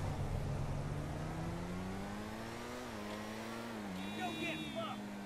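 Engine revving under hard acceleration in GTA 5 driven with a steering wheel, a steady rising drone with shifting pitch and a whine near the end, faint beneath someone speaking French.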